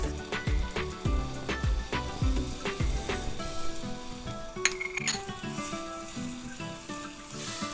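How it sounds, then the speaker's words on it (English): Dry spices go into tomatoes frying in a pot for an aubergine and potato curry, bringing loud sizzling with a few sharp spoon clinks against the pan and steady crackle as the mixture cooks. "Now I'm going to add all the dry spices"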